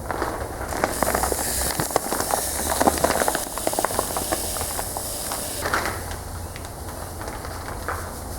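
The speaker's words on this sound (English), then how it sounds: "watching blast media being dumped in a pressure blaster" Continuous hissing, rushing pour of abrasive blast media into a pressure sandblaster, a steady granular roar with small crackling ticks, moderate and close, lasting throughout without pause.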